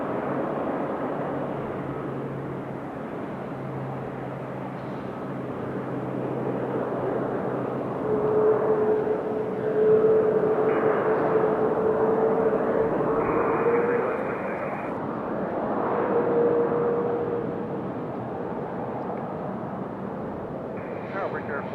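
A brand new JetBlue Airbus A220 airliner at Raleigh Durham airport gives off a distant, swelling jet roar with a faint whine, under steady background noise and bits of talk.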